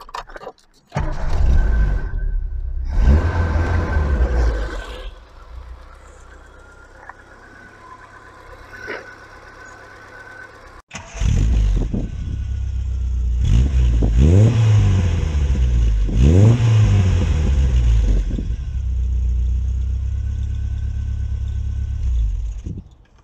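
A Triumph Dolomite Sprint engine cranks and catches, then settles into a steady run with a few blips of revving, loud and close throughout, with no talk.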